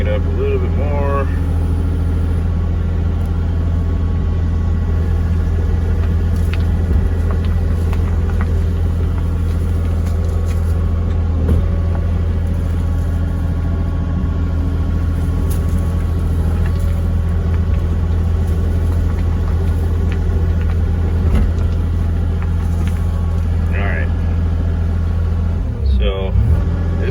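Tracked excavator engine running steadily while digging a trail, a constant loud diesel drone with low harmonic hum, occasional clanks and a brief hydraulic whine near the end, with someone talking over it.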